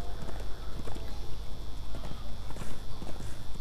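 A horse clip-clops at a steady trot while being ridden through open country in Darksiders 2, the rhythmic hoofbeats close and prominent over a constant background drone.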